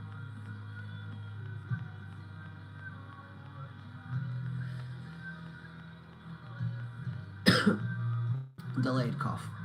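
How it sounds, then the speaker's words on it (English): One sharp cough bursts out near the end, preceded by a low steady hum and faint background noise. "Delayed cough. Only one though,"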